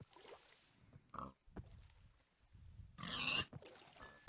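Pig grunts in a video game come in a few short, separate bursts over quiet background sounds, with one louder, harsher burst standing out near the end.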